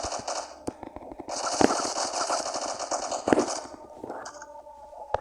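A newly acquired gun fires repeatedly in the Siren Head video game, with rapid crackling bursts and a few sharper heavy shots over a busy game background.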